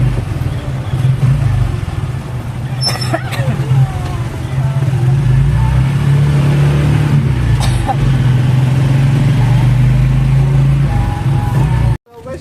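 A car's engine drones steadily and loudly from inside the vehicle while driving into town through traffic, a constant low rumble with road noise for about twelve seconds before cutting off abruptly, with faint voices now and then.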